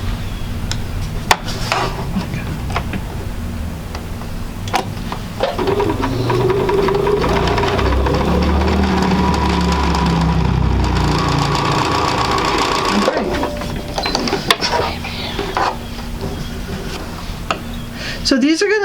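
A sewing machine stitches quilt sampler pieces in a long continuous run, with a steady mechanical whir and rattle lasting most of the stretch, close and fairly loud, with a person talking over it.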